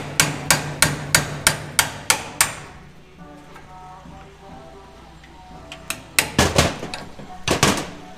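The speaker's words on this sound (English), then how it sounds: "Just hammer one time." Eight sharp, evenly spaced metal hammer strikes ring out close by as a polyurethane bushing is hammered into a Volkswagen Golf R part, followed by a quieter pause and then a few more irregular blows.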